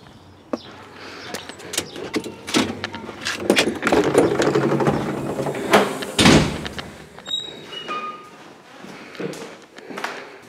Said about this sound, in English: Entering front door.